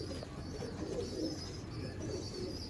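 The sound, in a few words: Ferozpuri pigeons cooing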